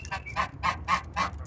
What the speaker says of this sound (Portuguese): o ganso, ele não gosta de água suja